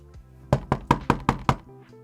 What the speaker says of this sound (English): Now people can do the !door and you will hear the door knocking.